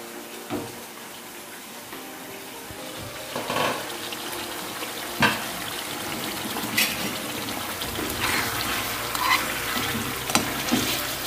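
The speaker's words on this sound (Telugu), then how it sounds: "అందుకని స్లోగా కలుపుకుంటూ నిమ్మిగా కలుపుకుంటూ ఉండాలి" A utensil scrapes and stirs chicken liver fry in a pan at an unhurried pace, with soft sizzling underneath and occasional sharper clinks.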